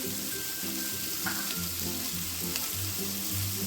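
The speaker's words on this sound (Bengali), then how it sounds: "আমি শেষের দিকে আদাটা দিয়ে একটু কষিয়ে নেব" Ginger sautéing in oil for a fish curry, a steady soft sizzle with occasional stirring scrapes, close and moderately quiet, with a faint background tone running beneath.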